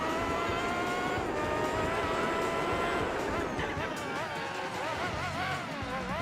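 A race car engine in Gran Turismo 4 during a Formula GT World Championship race, a loud whining drone whose pitch holds and then wavers and dips as the throttle is eased, continuous and close.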